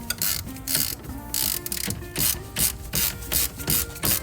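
Torque wrench clicking as it tightens a suspension bolt on a Ferrari 599, a rapid series of close, sharp ratcheting clicks repeating in short bursts throughout.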